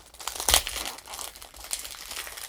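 A plastic wrapper is peeled off a box of strawberry and mint After Eight chocolates, making quiet, close crinkling and crackling with one sharper rustle early on.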